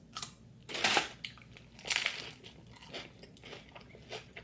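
Someone eats crunchy baked potato chips with pickle and chicken salad, crisp bites and crunches spaced about a second apart, close to the mouth over quiet background noise.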